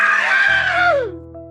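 A loud, drawn-out anguished shriek slides downward into a lower wild howl, close and harsh, heard alone as a sound effect in a Warhammer 40k horror story.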